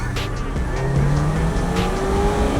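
A jeep's engine revs up steadily, its pitch climbing as it pulls away at the start of a race, loud and close, with a rumbling roar and no voices over it.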